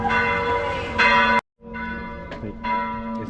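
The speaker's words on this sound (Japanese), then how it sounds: "なんか鐘が鳴り始めましたね。" Church bells ring in Rome in the early evening, a loud close peal of repeated rich tolls that cuts out briefly and then resumes, with no voices.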